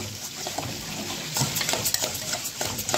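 Food frying in a pan is stirred with a utensil: a steady sizzle under repeated scraping and clinking strokes, close and fairly loud, with no voice.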